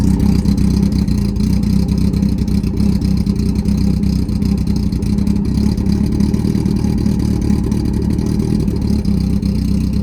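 A Smart car engine runs steadily at close range, its uneven low firing pulsing back and forth in a continuous loud throb with a faint clatter over the top.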